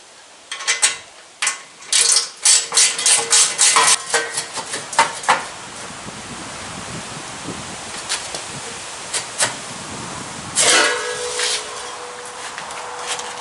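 Ratchet clicking in quick bursts while removing front bumper fasteners on a Honda Pioneer 700 side-by-side, close metallic ratcheting, then pauses with light handling clatter and another short burst.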